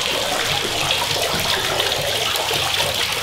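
Water flowing in a kiosk fountain in Huejúcar, Jalisco, Mexico, a steady loud rushing splash that continues unbroken with no talk.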